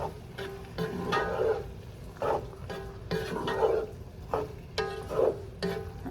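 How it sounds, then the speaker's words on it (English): Tortellini are stirred into a beef mixture in a pot with a spoon, giving repeated close scraping and wet churning strokes at an irregular pace over a low background sizzle. "add your tortellini to your pot. We're gonna give it a mix."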